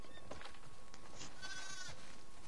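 Sheep bleating in the video game The Last of Us Part II, a few wavering bleats from nearby animals over a steady outdoor background.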